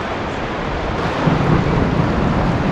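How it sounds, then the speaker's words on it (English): A steady, loud roar of heavy rain with a low rumble of thunder swelling in the middle, continuous and enveloping, during an outdoor rock concert in Madrid. "you can hear some thunderstorm as well"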